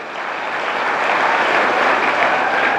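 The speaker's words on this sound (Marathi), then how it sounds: "सर्वांनी एकदा जोरदार टाळ्या होत्या लक्ष्मण दादासाठी." Crowd at a comedic speech gathering clapping loudly for Laxman Dada, a dense roar of applause that swells and holds steadily throughout.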